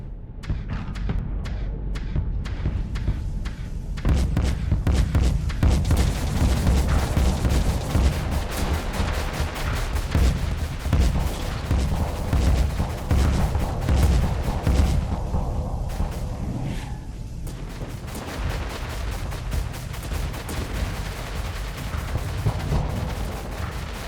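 Voltaic cannons firing in the space combat game Starsector, a long dense barrage of rapid booming shots and thuds that stays loud throughout.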